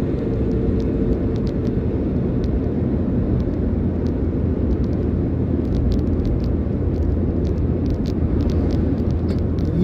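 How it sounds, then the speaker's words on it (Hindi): A car speeds past in traffic on a Saudi Arabian road, set in a loud, continuous rumble of engines and tyres that stays heavy and unbroken throughout, with no talking. "ये देखिए स्पीड से गाड़ी निकल गई।"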